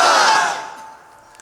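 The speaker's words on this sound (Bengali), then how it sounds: "স্লোগান দেন লিল্লাহি তাকবীর" A large crowd at a religious lecture roars a chanted slogan, a loud massed shout that fades out after about half a second into quiet.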